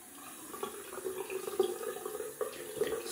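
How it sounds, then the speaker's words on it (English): Cold tap water runs into a sink while someone shaves, a soft steady splashing stream with small irregular spatters, quiet and continuous with no speech. "Gonna add some cold water to the face."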